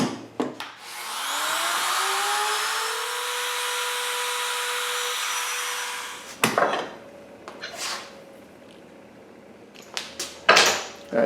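Router spinning up and cutting into a clamped wooden door edge for a half mortise lock: a loud, steady high whine for several seconds that winds down, followed by clunks and knocks of handling the workpiece.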